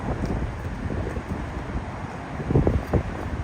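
Wind gusting across a hilltop spot in Shibuya, Tokyo, ringed by tall buildings, a continuous rough buffeting roar with stronger gusts near the end and no talk.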